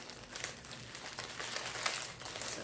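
Continuous crinkling and rustling of paper or plastic packaging as a subscription box is opened by hand without scissors, close and fairly busy, with no talking.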